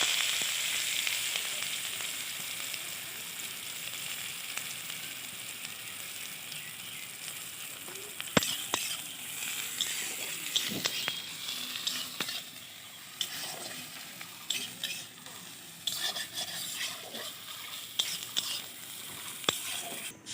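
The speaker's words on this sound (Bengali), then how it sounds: "পেঁয়াজগুলো একটু লাল লাল করে, সামান্য লাল লাল করে ভেজে নিলাম" Chopped onions fry in hot oil for an aloo paratha filling, making a faint, steady sizzle that settles into scattered crackles and occasional stirring clicks.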